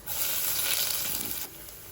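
Cumin, mustard seeds and garlic hit hot oil with a loud, steady sizzle that eases off slightly near the end.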